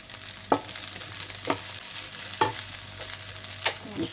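Spatula scrapes and stirs fried rice with dried squid and anchovies in a hot pan, four or five sharp metallic strokes over a low steady sizzle, close and with no talking.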